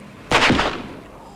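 A single loud gunshot cracks out in a tense hideout standoff, a sharp broadband burst with a short ringing tail that quickly fades into quiet.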